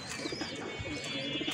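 A domestic pigeon at its loft coos softly in a few low, rounded, repeated calls, faint and fairly close, with no talking.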